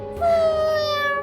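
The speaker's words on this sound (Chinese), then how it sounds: "一声猫叫声又传了过来" A stray cat meows with one drawn-out, wavering cry, fairly close, in a quiet residential setting at night.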